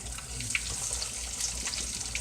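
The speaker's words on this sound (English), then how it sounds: "And let's wash your hands." Tap water runs steadily into a kitchen sink while hands are washed after shaping salmon cakes, a continuous close splashing rush with small drips and clinks.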